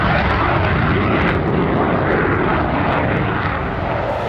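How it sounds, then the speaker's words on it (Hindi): A light combat supersonic fighter jet flies past at an air exercise, and its engine roars loud and steady throughout, with no talk on top. "Light combat supersonic fighter aircraft designed for"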